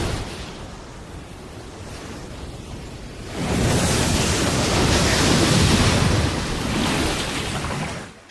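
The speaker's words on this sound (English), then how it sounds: "The sound of a lion roar has been added to give the waves massive power." A broad rush of crashing ocean surf that swells suddenly louder partway through, with a deep rumbling lion roar blended into the roaring water.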